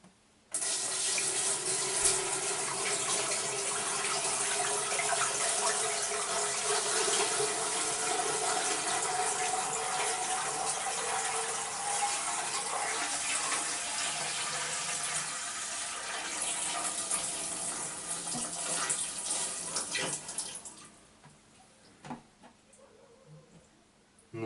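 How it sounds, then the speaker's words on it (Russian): Tap water runs steadily for about twenty seconds as five liters are poured into a home autoclave for canning fish, then stops, leaving a few faint clinks. "сейчас наполняю 5 литров воды и заливаем"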